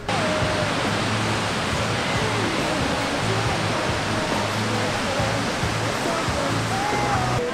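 Ocean surf at a surfing contest: a steady, dense roar of breaking waves and rushing water filling the whole clip, with no distinct gaps.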